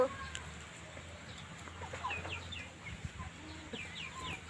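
Chickens cluck and call close by in a rural Thai garden, with scattered short clucks and a brief crow-like call over quiet outdoor background noise.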